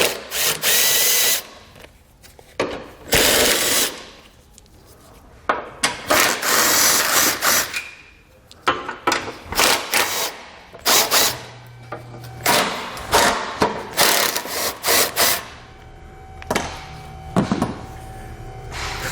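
A 17mm socket on a power tool backs out bumper bolts and a nut for a trailer hitch install, giving repeated loud, whirring bursts separated by short pauses.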